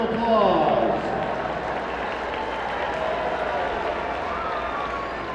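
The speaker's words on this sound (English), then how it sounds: "Let's give them a round of applause." A crowd applauding for Cub Scouts at a soccer match, steady dense clapping that swells at the start and carries on evenly throughout, broad and fairly loud with no talk over it.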